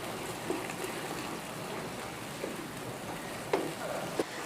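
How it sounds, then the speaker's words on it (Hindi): Chicken karahi masala fries in yogurt water over a high flame, giving a soft, steady sizzle with a few small pops scattered through. "अब मैं इसे दही के ही पानी में ही भून लूँगी हाई फ्लेम पर।"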